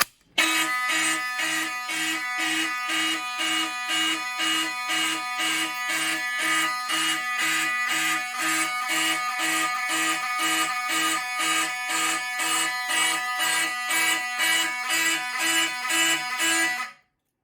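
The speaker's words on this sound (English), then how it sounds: "Now it's time to go ahead and activate the Gamewell MS-7." A Gamewell MS-7 fire alarm sounds during a system test, a loud, harsh electronic horn pulsing in rapid, even bursts nonstop for about sixteen seconds before cutting off abruptly.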